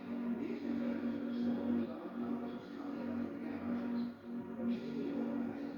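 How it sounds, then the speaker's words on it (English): Electric bus pedestrian warning sound with the moving beacon layer added on top of the stationary tone: a constant hum runs throughout while faint pulsing accents recur over it, amid steady background noise. "we add the beacon layer as soon as the bus moves."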